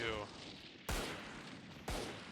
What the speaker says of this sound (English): Logan going to be throwing out some more shots into that smoke.